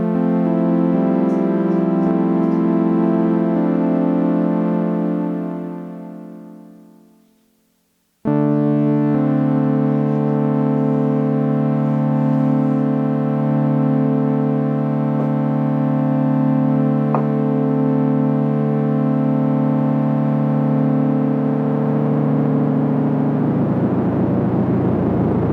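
A Korg Prologue synthesizer swells on a held chord, fades out, then returns with heavy LFO modulation making the pitch and tone waver strongly, loud and sustained to the end, with no talking.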